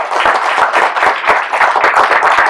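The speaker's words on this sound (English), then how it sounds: "Why don't we do a round of applause for Dr." Audience applause for Dr. Siddiqui at an interfaith panel event, a loud, close round of clapping with distinct individual claps audible within the steady crowd sound.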